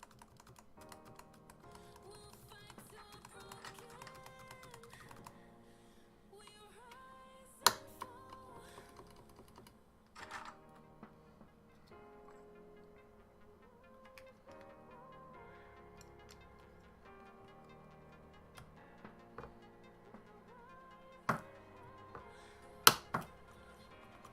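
Keycaps, including stabilized keys, being pressed back onto a Leopold FC660C keyboard: scattered small clicks and taps with a few sharper snaps, close and quiet over background music, with no talk.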